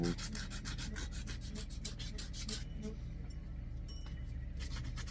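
A wooden fishing lure is hand-sanded along the grain with very coarse P10 grit sandpaper outdoors. Steady, close rasping strokes repeat rhythmically and continuously, with no voices.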